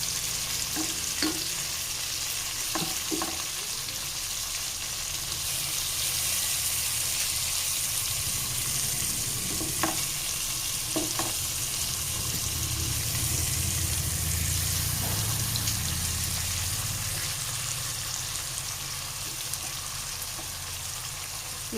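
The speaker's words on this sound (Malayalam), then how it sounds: "നമുക്ക് ഈ സൈഡ് ഒന്ന് ഫ്രൈ ചെയ്തെടുക്കാം" Mackerel coated in masala with coriander and mint fries in oil, giving a continuous close sizzle with occasional sharp pops and clinks throughout and no one speaking.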